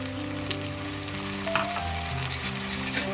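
Brinjal and chopped tomatoes sizzle steadily in oil in a pan for ennai kathirikai kulambu, a constant close frying hiss with a few faint stirring clicks.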